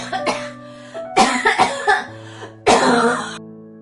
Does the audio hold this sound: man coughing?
yes